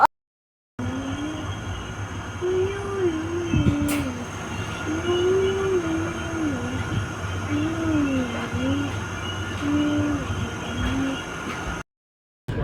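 Steady low rumble of a moving train with rhythmic rolling noise, while people talk over it throughout.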